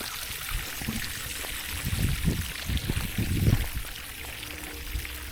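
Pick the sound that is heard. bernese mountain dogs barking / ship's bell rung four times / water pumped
water pumped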